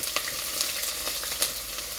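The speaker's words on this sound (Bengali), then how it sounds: "পেঁয়াজটা বেরেস্তাটা ভাজা নিছি" Sliced onions fry in oil until golden, giving a close, constant sizzle with a few crackles and brief stirring scrapes and no voices.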